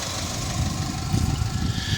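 A 2021 Chevy Silverado 1500 crew cab 4-wheel drive with a 2.7 liter turbocharged engine runs at idle, a steady low rumbling drone that swells slightly midway, close and alone.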